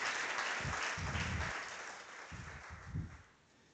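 Brief light applause from a small conference audience, a scattered patter of clapping that swells and then fades out.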